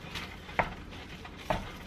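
Ground meat browning in a pan, lean enough that draining may not be needed: a steady low sizzle with two sharp utensil scrapes or taps spaced about a second apart.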